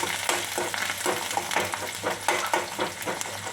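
Gunugu greens curry fries in a pan with oil, a steady close sizzle broken by regular scraping strokes of a stirring spoon, with no voices.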